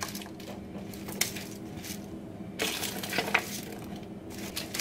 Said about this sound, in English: take whatever this thing is called, spatula, I don't even know. And just mix it all together.